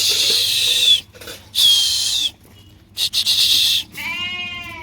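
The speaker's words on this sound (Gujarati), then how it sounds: "બકરા આવી ગયા છે" Goats bleating in a Gujarati village farmyard, several loud, close, wavering cries in succession with short pauses between them, over a faint low hum.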